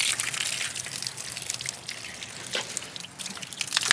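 Water sprays and splashes over garden plant leaves to rinse off pests, a close, hissing, uneven stream that continues without pause.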